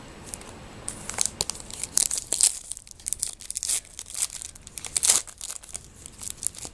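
Plastic-wrapped packs of 2012 baseball cards being torn open produce bursts of crinkling and tearing, irregular and close, with sharp crackles coming in clusters and short quiet gaps between, no voices present.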